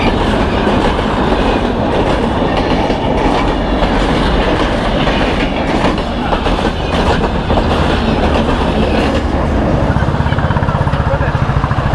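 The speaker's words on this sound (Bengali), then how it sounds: "আরে এখনই ট্রেন আসলো।" A train rumbles past close by beside a riverbank, a loud continuous roar with rolling wheel clatter filling the whole stretch and rising toward the end, with no voices over it.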